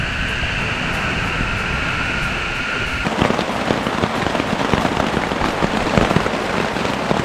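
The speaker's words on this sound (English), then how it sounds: "as you can hear, it's raining" Rain falls outside a hammock at a wild camp, a soft steady patter that thickens into denser, louder drops and taps partway through, with no voices.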